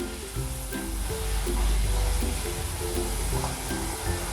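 Homemade barbecue potato chips bubble and sizzle in hot oil, a steady close crackling hiss that swells slightly midway, with faint background music underneath.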